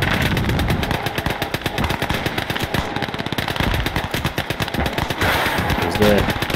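Rapid machine-gun bursts and heavy artillery fire in Call to Arms: Gates of Hell Ostfront, a dense, loud, continuous rattle of gunfire with booming impacts throughout.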